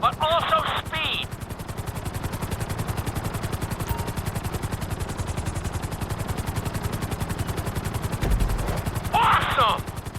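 A helicopter flying in GTA 5 during a flight school course, its rotor thumping in a rapid, steady pulse throughout, with brief electronic game sounds near the start and end.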